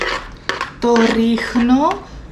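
Salad ingredients tossed in a bowl for a Greek salad, with a few short clinks and scrapes of utensils against the dish, then a voice talking over the mixing.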